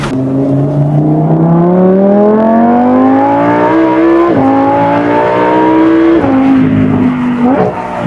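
A Lamborghini Huracan Spyder LP610 engine revs loudly and close, exhaust note climbing steadily in pitch across several seconds, dipping briefly at a couple of gear changes, then holding high before easing off near the end.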